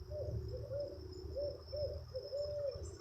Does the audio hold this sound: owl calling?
yes